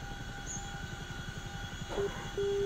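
A CH-47 Chinook tandem-rotor helicopter in the DCS flight simulator spins up for takeoff, a steady low rotor thump and engine whine running throughout at moderate level, with a couple of short tonal beeps near the end.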